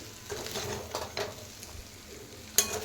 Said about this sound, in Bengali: ভালো করে চাউমিনটা ভাজবো।